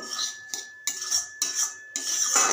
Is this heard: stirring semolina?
yes